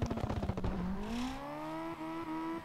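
Drift car in CarX Drift Racing at Mondello Park revving hard and climbing through the gears, a strong rising engine whine held near and loud, with rough bursts at the start and tyre noise underneath.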